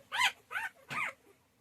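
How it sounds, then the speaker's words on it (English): A small puppy trapped under a blanket gives three short, high whimpering yelps in quick succession, faint and close, with no other sound around them. "the puppy got stuck under a blanket"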